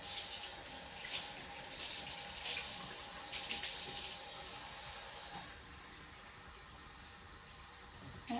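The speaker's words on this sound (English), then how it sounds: "step to the sink and grab some water right fast" A kitchen sink tap runs warm water for baking, a steady hissing gush with splashy surges that drops to a quieter trickle midway, close and alone without talk.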